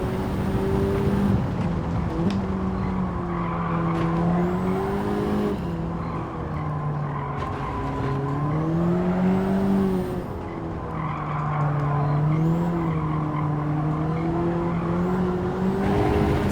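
A race car in the video game Gran Turismo 7 revs loudly at steady high pitch, its engine note rising and falling with gear changes and cornering, and tires squeal intermittently across the whole stretch.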